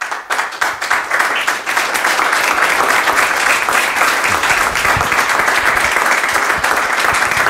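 At an evening political meeting, a hall audience breaks into applause, starting with scattered claps and quickly swelling into loud, steady, dense clapping that holds to the end.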